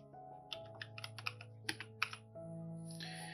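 Keys on a computer keyboard are tapped in a quick run of sharp, close clicks over a faint background hum, with no speech.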